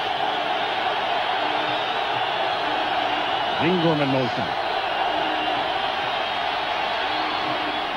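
Football stadium crowd at a 1989 Monday night Giants vs. 49ers game, roaring steadily to urge on the 49ers defense on third down; a dense, continuous wash of far-off voices with a commentator talking over it.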